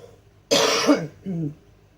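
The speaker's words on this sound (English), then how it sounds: "Sorry, just clearing my throat." A person clears their throat twice at close range, a sharp rasping burst followed by a shorter, softer one in a quiet room.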